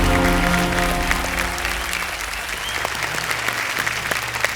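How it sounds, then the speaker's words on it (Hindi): A studio audience applauds contestants on a televised quiz show, with loud, dense clapping and light cheering held steady for several seconds and dipping only slightly near the middle. "एक बार फिर जोरदार तालियां बज जाएं इनके लिए"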